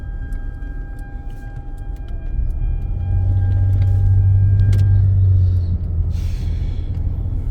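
A Lexus GS on a road test after a motor relay welding fault repair rumbles steadily from inside the cabin, the low engine and road noise building heavier midway before easing slightly.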